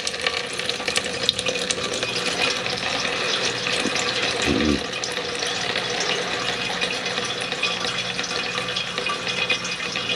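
Water drains steadily out of a dump truck's fuel tank into buckets, a continuous splashing pour heard close up with no talk.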